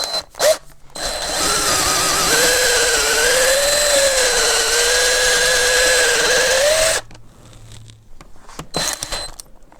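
A power drill bores holes into a model airplane while its engine is being set up, a loud, steady whine running for about seven seconds before cutting off, with a few brief handling noises before and after.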